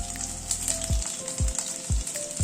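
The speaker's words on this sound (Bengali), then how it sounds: "কোপ্তাগুলোকে লাল করে ভেজে নিলাম, তুলে নিচ্ছি।" Fish kofta balls fry in hot oil with a steady close sizzle, punctuated by several soft thuds from a utensil at regular intervals.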